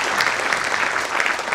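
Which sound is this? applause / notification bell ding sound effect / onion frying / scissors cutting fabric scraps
applause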